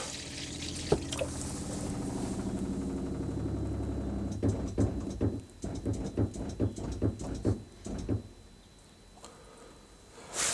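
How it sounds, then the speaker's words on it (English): Water pump in a Swift Suntor motorhome priming the system, a steady mechanical whir and gurgling flow that runs continuously before breaking into irregular knocks and spurts, then falling quiet near the end. "So what I'll do is I'll switch the pump on,"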